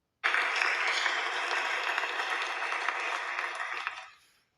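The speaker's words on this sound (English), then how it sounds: "Please give a round of applause to Amanda." An audience at a speaking event and conference gives a sustained round of applause for a speaker introduced to talk on domestic violence, a dense wash of many hands clapping that begins abruptly, holds steady, then fades out.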